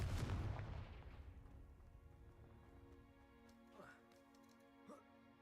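A Confringo fire spell blast in the video game Hogwarts Legacy, a loud booming burst at the start that decays into a lingering rumble, followed by quieter game sounds and faint voice-like tones.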